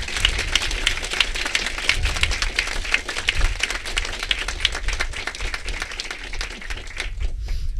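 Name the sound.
applause and cheering for Catherine Ayres at ceremony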